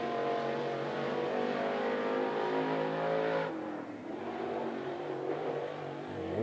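A NeSmith late model race car runs a qualifying lap at 411 Motor Speedway, its engine roaring loud and sustained, then dipping briefly and climbing again as it passes, with no voices.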